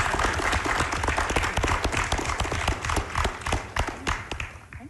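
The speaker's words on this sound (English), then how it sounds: "If you can give them all a round of applause." An audience at a security forum panel in Taipei breaks into sustained applause, dense and loud from the start, with individual claps standing out before it thins and fades toward the end.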